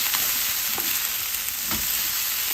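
Vegan green chile stew sizzles steadily in a pan over medium heat, with a few soft spoon stirs scraping through it. The frying hiss is constant and close, and no one speaks.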